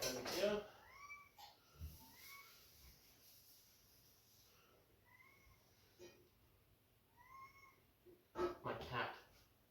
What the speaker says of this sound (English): he'll meow until you come and talk to him.